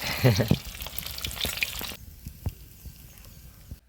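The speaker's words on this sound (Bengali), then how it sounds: "কাতলা মাছটা একদম পারফেক্ট করে ভেজে নিয়েছি" Katla fish frying in oil gives a loud, close sizzle with stirring clicks for about two seconds, then the hiss cuts away, leaving a few scattered taps and quiet background.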